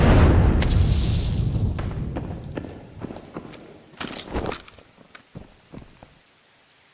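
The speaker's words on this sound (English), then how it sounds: "Oh, that was a great grenade that I just threw." A grenade goes off in an online shooter match, a loud low boom at the start that rolls away into rumble, followed by scattered thuds and footstep-like impacts, with no clear talk over it.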